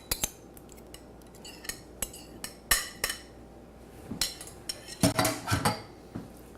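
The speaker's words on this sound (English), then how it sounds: "Let's give that a little stir, getting nice and wet" A spoon stirs corn, oil and sour cream into batter in a bowl, giving a run of irregular clinks and scrapes against the dish, with a denser patch of clatter toward the end and no talking.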